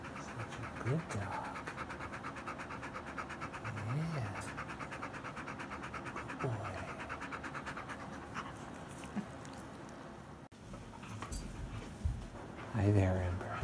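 An Australian Shepherd pants rapidly close to the microphone, a steady breathy rhythm with a few snuffles and scratches while someone talks over it.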